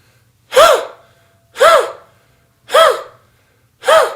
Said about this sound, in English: There is some sound coming out my throat, but it's the air being purged from my lungs